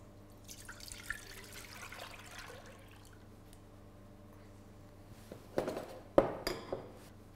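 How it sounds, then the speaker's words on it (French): Milk is poured into a saucepan, a faint trickle at first, then a few louder splashing, gurgling bursts near the end, close by. "nous allons dans un premier temps verser le lait dans la casserole"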